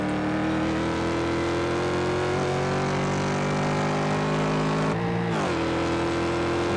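Race cars in an Imola racing game, a Mustang closing on a group of small MX-5s: loud sustained engine drone with rising pitch, a sharp gear-change dip near the end, continuous and close.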